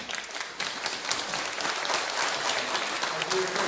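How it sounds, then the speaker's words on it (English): Sustained applause from a church audience, a dense even wash of many hands clapping at steady volume from start to finish, with a brief dip near the beginning. "please give him a round of applause"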